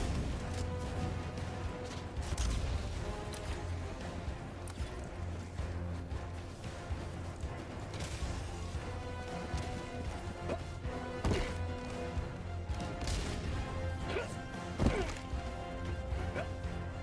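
Orbital strike explosions hit in the Helldivers 2 video game as a run of distant crashes and thuds over a steady battle din. A few sharper impacts stand out.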